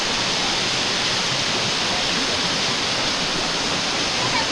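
A waterfall roars close by as a dense, steady broadband rush of falling water, loud and unbroken throughout with no other distinct sounds.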